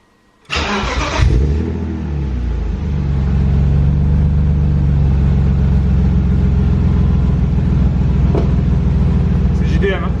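A BMW E30 with a swapped M50 engine cranks and fires up loudly up close, surges in a brief rev and then settles into a steady, rough idle.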